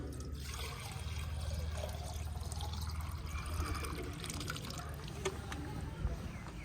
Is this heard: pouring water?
yes